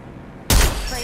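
Burst of video game gunfire erupting abruptly midway through a ranked duo match, loud and sustained with a dense crackling onset, alone without talk.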